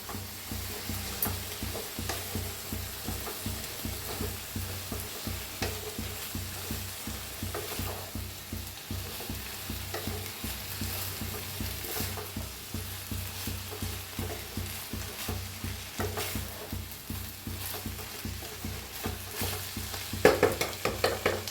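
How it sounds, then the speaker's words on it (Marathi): Rice being stirred and fried in a hot pan for soya rice, with steady scraping strokes over a continuous sizzle, close and fairly loud with no talking. "मिक्स करून घेऊया तांदळाला मी"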